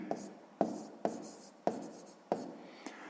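Pen strokes writing out a math answer on paper, about five quick scratching bursts at a steady rhythm, close and fairly quiet with no talking.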